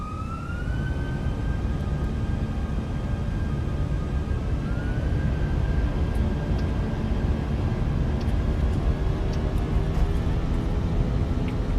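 Airbus A320 engines spooled up to takeoff thrust in a Fenix A320 flight simulator, a steady loud roar with a rising whine settling into a sustained high tone throughout.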